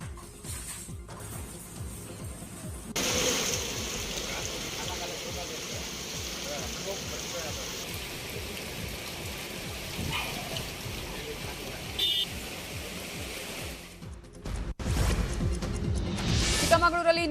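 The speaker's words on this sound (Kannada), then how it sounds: "ಇತ್ತ ಚಾಮರಾಜನಗರದಲ್ಲೂ ಭಾರೀ ಮಳೆ ಸುರಿತಾ ಇದ್ದು" Heavy rain pours in Chamarajanagar, Karnataka, a dense continuous hiss with sharper spattering, rising partway through and running throughout with some background noise.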